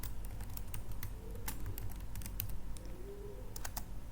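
Rapid keystrokes on a computer keyboard while programming a random-number 2D array matrix, sharp irregular clicks in quick bursts over a steady low hum, close and clear.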